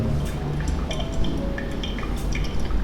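Water poured over ground coffee in a pour-over brew, about 220 grams of water onto the grounds, makes a steady close trickle and drip that continues evenly throughout with no talking.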